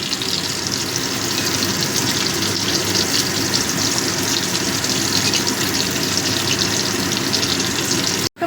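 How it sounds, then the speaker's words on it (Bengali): Potatoes fry in hot oil with panch phoron in a pan, giving a continuous, fairly loud sizzle and crackle that stays even throughout, with no talking. "এবার আলুগুলোকে ভালো মতো একটু ভেজে নেব।"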